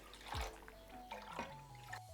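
Water is poured into a deep pan holding sugar for syrup, giving a soft, faint splash and gurgle close by, with no talking.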